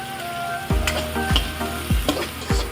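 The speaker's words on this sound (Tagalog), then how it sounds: "magpiprito naman tayo ng yan, yung ulo ng shrimp muna para mas malasa siya" Shrimp heads frying in a pan with garlic and ginger, a loud steady sizzle broken by several sharp scraping stirs at regular intervals, with no talking.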